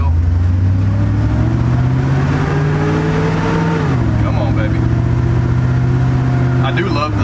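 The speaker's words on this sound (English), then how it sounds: "I do love the sound of these mufflers." LS-swapped 1968 truck engine rumbles loudly through its mufflers, a deep continuous exhaust drone that dips and climbs slightly in pitch as the revs change, heard from close inside the cab.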